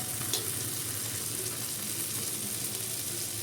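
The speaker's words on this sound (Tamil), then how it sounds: "எடுத்து எண்ணெயில் வச்சுருங்க சூடான எண்ணெயில் உடனே விழுந்துடும்" Jaggery rose cookie (achu murukku) batter frying in hot oil gives a steady, close bubbling sizzle that carries evenly throughout, with no voices.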